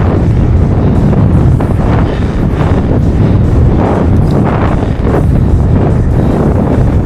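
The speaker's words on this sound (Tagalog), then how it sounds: "Ang lakas ng hangin, grabe." Loud, constant wind roars and buffets against the microphone on a road bike ride, a heavy rumbling gust that never lets up.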